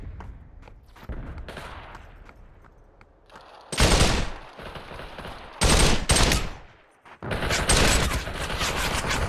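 Bursts of automatic gunfire in the VR shooter Population One, several loud sustained volleys separated by short pauses, with quieter footsteps and movement between them.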